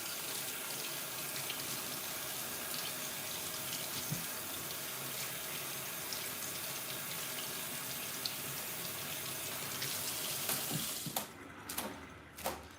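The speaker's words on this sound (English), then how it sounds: "Let me wash my little chives." Tap water runs steadily into a sink while chives are rinsed under it, a continuous close hiss that breaks off near the end with a few short splashes and clatters.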